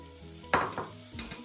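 Pork hits a hot pan for Filipino pinakbet. It lets out a sudden loud sizzle burst, then settles into a fading crackle with a few smaller spurts, close and alone.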